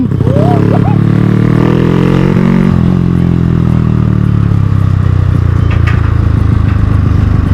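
A motorcycle with an inner-tube tyre being ridden for a leisurely spin after rain, its engine droning loudly and close, pitch shifting gradually as it moves.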